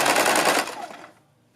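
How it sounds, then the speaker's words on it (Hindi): A domestic sewing machine stitches joined pieces of net fabric for a party-wear gown, giving a fast, dense mechanical rattle that runs for about half a second and then quickly winds down to quiet. "जहाँ पर हमारी ये सिलाई है, बिल्कुल वहीं पर हम अपनी नेट आपस में मिलाएंगे और अपनी सिलाई लगाएंगे"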